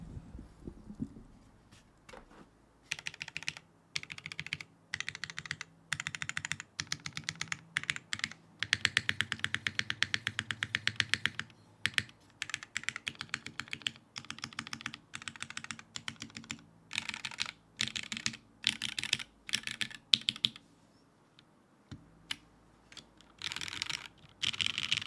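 Typing on a Cruelworld CW88 mechanical keyboard fitted with gaskets gives a steady stream of close, crisp keystroke clacks in rapid bursts with short pauses, heard on its own.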